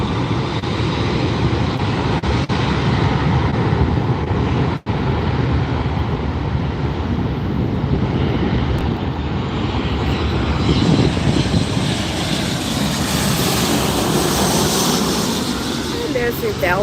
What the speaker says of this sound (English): Airbus 330-200 series. Releasing the brakes and heading on out.